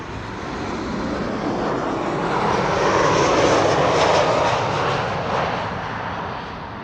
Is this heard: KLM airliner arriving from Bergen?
yes